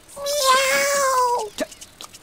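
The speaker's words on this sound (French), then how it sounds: "Miaou." A cartoon cat gives one drawn-out, wavering meow lasting over a second, close and clear, followed by a few soft small sounds.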